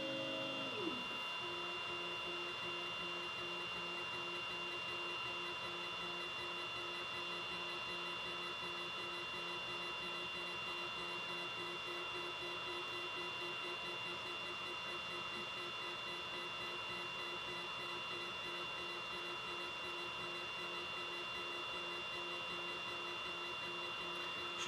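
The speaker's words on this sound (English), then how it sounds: "You notice the laser's going back and forth, and the rotary will be turning." An xTool laser engraver fitted with an RA2 Pro rotary chuck engraves a tumbler, giving a steady mechanical whine with sustained tonal hums as the laser head shuttles and the rotary turns, continuous and close throughout.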